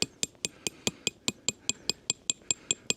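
A metal tent stake for a Snow Peak Amenity Dome M is hammered into the ground, giving a steady series of about fourteen sharp, ringing metallic clinks at an even rhythm, close and alone.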